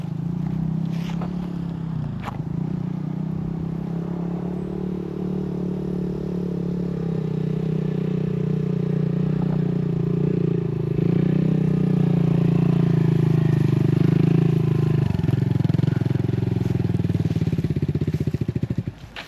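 A motorcycle engine idles close by in a steady, low rumble that holds for the whole stretch, with a few faint clatters over it before it cuts off at the very end.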